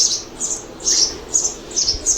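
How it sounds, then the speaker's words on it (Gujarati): House sparrows and their chicks chirp from a nest close by, short bright bursts repeating roughly every half second, loud and alone with no talk. "આ જો આમાં છે ચકલી ને ચકલીના બચ્ચા."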